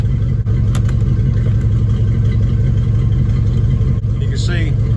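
A 1960s–70s Ford 302 V8 car engine runs at a steady idle, its low, even rumble carrying close and loud throughout, with brief clicks and a short voice heard over it.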